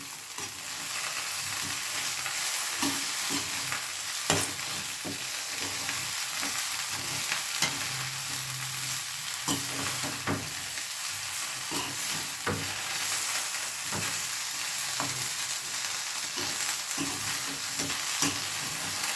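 Chicken being stirred and mixed with sauce in a hot pan, a steady sizzle broken by repeated scrapes and clacks of the spoon, close and continuous with no talking.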